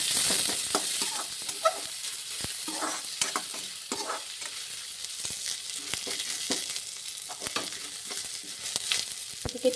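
Chopped onion and chili sizzle steadily with mustard seeds in a hot pan, a dense continuous fry with occasional stirring clicks and scrapes, loud and close.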